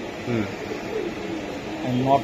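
Pakistani pigeons giving low soft coos in short phrases, close by, under someone talking and a steady background hiss.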